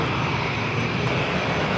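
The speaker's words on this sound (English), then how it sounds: "Delta Airlines Flight 1453 heading to Salt Lake City in an A321" Delta Airlines Airbus A321 jet airliner at San Diego airport, a steady, loud, broadband engine roar with no pauses and no talking.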